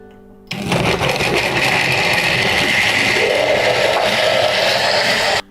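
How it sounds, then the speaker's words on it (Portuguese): Kitchen blender on high speed pureeing chopped carrots with eggs and oil for a carrot cake batter, a loud, steady whirring grind that starts abruptly and runs continuously for several seconds. "a gente vai bater bem para o liquidificador triturar bem essa cenoura e ele ficar bem laranjinha"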